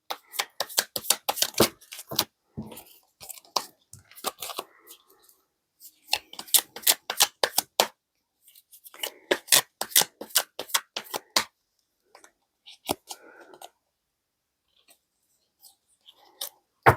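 Tarot message cards are shuffled in quick bursts of crisp flicking and riffling, close and fairly loud, with short pauses between rounds and occasional soft taps.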